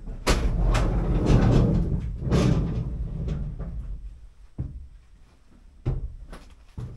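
Doors on a 1982 air-cooled Volkswagen Vanagon Westfalia open and shut in a workshop, several loud clunks and slides spaced out over the stretch with a couple of sharp latch knocks near the end.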